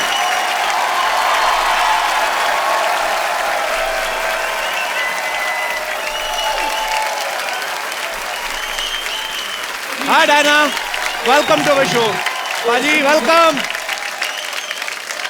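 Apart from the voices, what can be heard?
studio audience applause welcoming guests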